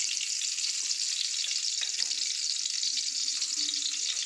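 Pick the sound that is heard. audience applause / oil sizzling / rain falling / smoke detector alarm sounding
oil sizzling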